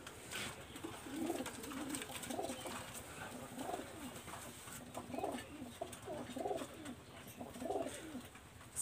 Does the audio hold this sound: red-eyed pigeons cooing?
yes